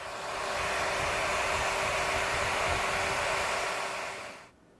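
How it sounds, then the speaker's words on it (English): A hair dryer blows steadily at close range to set freshly applied makeup, a continuous even whoosh that runs nearly the whole time before switching off at the end. "I'm going to blow dry it again to completely set it"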